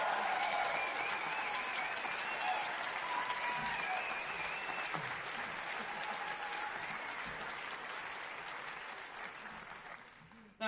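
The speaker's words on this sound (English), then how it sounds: "I think deserves an extra round of applause" A university brass band contest crowd gives a long round of applause in a hall, a broad wash of clapping that starts loud and slowly tapers as the seconds pass.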